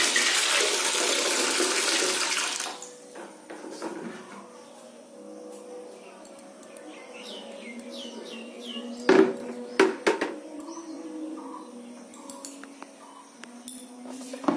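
Water gushes from a tap into a bucket for a few seconds, then the flow drops to a quieter trickle with light clinks and knocks, while someone talks over it.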